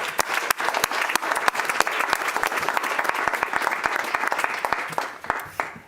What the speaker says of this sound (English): I think we need to give our teachers a round of applause